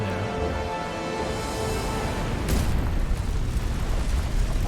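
In Final Fantasy 16, a sudden deep explosion booms midway through, following a rumbling buildup and leaving a heavy, sustained roar of debris and effects.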